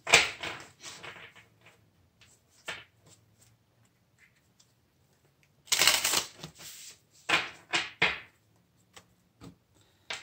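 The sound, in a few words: shuffling a deck of cards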